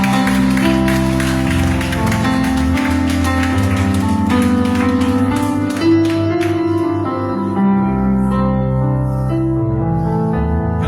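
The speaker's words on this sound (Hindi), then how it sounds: "Church में प्रभु के लिए एक जोरदार तालियां बजाएं" A church congregation claps together over sustained music during a sermon, the applause loudest early and then fading as the held tones carry on.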